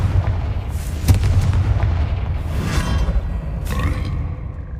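A Confringo blasting spell in Hogwarts Legacy on PC detonates in a booming explosion, with a sharp crack followed by a rolling rumble, then further whooshing blasts in quick succession and no talk.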